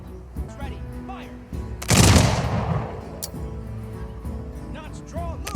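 Industrial-era units fire in a Humankind battle, sending up a loud crackling volley that spreads into a brief rumbling burst. Voices talk before and after it.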